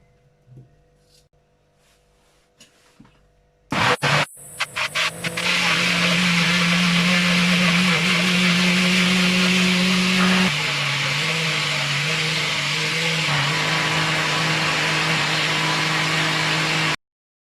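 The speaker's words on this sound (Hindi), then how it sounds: "तरबूज को हमने ग्राइंड कर लिया है" A blender grinds two or three cut pieces of watermelon peel for a sweet halwa. After a few quiet seconds it stutters on in short bursts, then runs as a loud, steady whir that shifts pitch slightly partway through.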